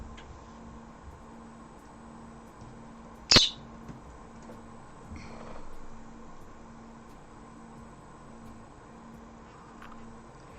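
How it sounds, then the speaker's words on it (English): One sharp, loud bird call cuts through a quiet room, followed by a softer chirp a couple of seconds later over a faint steady hum. "I can't move the bird or tell the bird to shut up."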